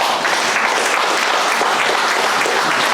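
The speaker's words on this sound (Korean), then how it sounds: "박수 쳐!" Loud, dense audience applause at a lecture in Washington by a former CIA officer, continuous clapping from a large crowd with no pauses.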